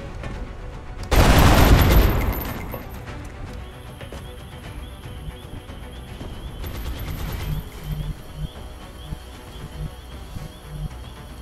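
Gunfire in the XCOM video game: one loud, sharp burst of shots near the start, fading into quieter game ambience with scattered softer effects afterward.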